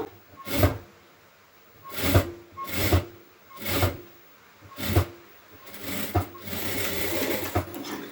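A sewing machine stitches blouse main cloth and band together in a series of short, close bursts separated by brief pauses, ending in a longer steady run.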